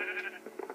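A rainbow sheep in a Minecraft-style video game bleats in a short, close, wavering cry that lasts under a second, with nobody talking over it.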